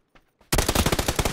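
Gunfire in the PUBG video game: a rapid, loud automatic burst of closely spaced shots, preceded by two faint clicks in near silence.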